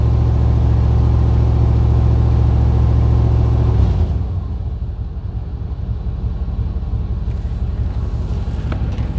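A 1994 Chevy Silverado K1500 with a 5.7L V8, in poor running condition, idles with a loud steady low rumble, then drops to a rougher, quieter idle partway through, close by and with no talking.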